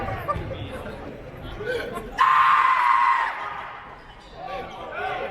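A college basketball crowd at a CUW home game against Illinois Tech lets out a shrill, sustained screech lasting about a second during a free throw, rising sharply over steady background chatter while a commentator keeps talking.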